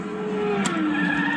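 An electric go-kart's small motor hums as tires squeal in a sustained braking skid, with a brief sharp scrape midway, close and steady.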